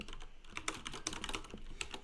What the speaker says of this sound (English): and then typing in the ID